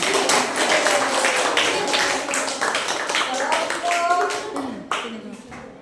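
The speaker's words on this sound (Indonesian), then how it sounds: "Berikan tepuk tangan." A room full of people claps together, a dense patter of many hands lasting several seconds, with voices mixed in before it tapers off.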